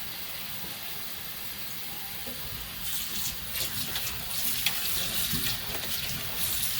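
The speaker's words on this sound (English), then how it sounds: "Turn off the water." Kitchen tap runs water over cut potatoes in a bowl. A continuous hiss of flowing water grows louder and more splashy about halfway through, with small clinks and sloshes.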